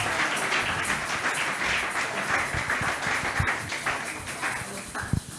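Congregation at a Sunday church service applauding together, a steady wash of many hands clapping at moderate volume, sustained throughout with a few sharper claps standing out near the end.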